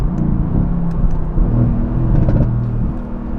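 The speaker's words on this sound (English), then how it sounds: "that exhaust is incredible" A car engine revs with a deep, throaty exhaust rumble that rises and falls, loud and close, with no talking.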